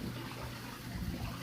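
Shower water for a pet goose runs steadily and close, a dense even hiss of spray and splashing that fills the short stretch with no break and no voices.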